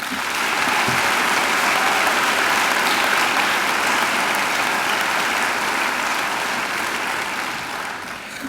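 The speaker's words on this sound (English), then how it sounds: "I think they deserve a round of applause too." Graduation ceremony audience at Macquarie University giving a round of applause, a thick continuous wash of clapping from a large crowd in a hall, steady and loud before easing slightly at the end.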